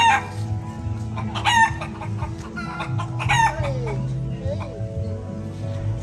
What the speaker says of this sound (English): Aba! Galinha!